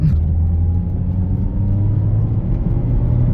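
A high-mileage Mazda 3 engine hums and rumbles steadily from inside the cabin on a back road, a low droning tone rising slightly as it pulls away.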